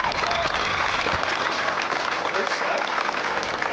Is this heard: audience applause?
yes